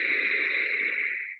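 Exaggerated Ujjayi breath drawn through the nose with a constricted throat, a steady, close, breathy hiss lasting just over a second and fading at the end, with no talking.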